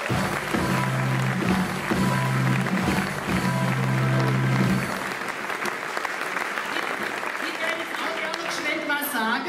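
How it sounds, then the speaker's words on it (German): Audience applause at a carnival guild ball in Winzeln, sustained dense clapping over a backing of amplified music that drops out midway while the clapping carries on, with voices mixed in. "Euer Applaus!"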